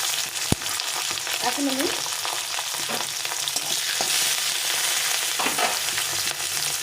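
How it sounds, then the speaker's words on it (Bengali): Garlic and green chillies fry in hot oil with a steady hiss and crackle and a few scraping stirs, and a brief voice speaks near the start. "এই কাঁচা লঙ্কাগুলো দিয়ে দেবো। তারপরে দিয়ে দেবো কিছুটা রসুনগুলো তেলে ফ্রাই রেখে দিই রসুনটা।"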